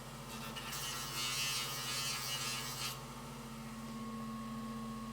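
A shoe-finishing machine spins a handmade leather burnishing tool too fast, giving a steady, close mechanical buzz and hum with a brighter rubbing hiss over the first few seconds before settling into a constant drone.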